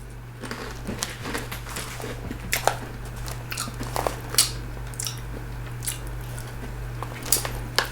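Crunchy plum-flavored Japanese potato snack sticks being bitten and chewed close up, irregular crisp crunches and soft squishy chewing over a steady low hum, with no talking.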